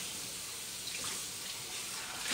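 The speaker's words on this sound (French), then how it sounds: "je le rince" Running tap water rinsing a silicone cake mould in a kitchen sink, a steady, close, continuous splashing flow for a couple of seconds, with no voices over it.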